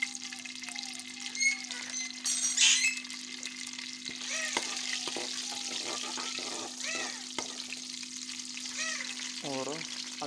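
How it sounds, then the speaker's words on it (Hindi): Cumin seeds dropped into about two spoonfuls of hot oil for a pumpkin curry give a steady close sizzle and crackle, with brief stirring and clinking of utensils and a faint voice in the background. "अब इसमें 1 चम्मच हम जीरा डाल देंगे।"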